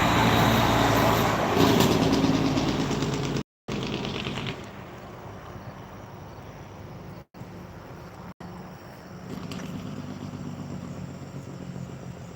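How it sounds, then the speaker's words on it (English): A semi-truck rumbles past near railroad tracks, loud and close at first, then fading into a softer distant engine drone with brief dropouts. "There's a semi-truck."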